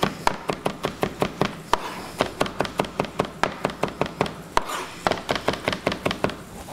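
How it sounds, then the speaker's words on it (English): A knife mincing garlic on a cutting board gives a steady run of crisp, rapid chops, close and evenly paced, with occasional brief pauses between bursts. "I'm going to smash some garlic"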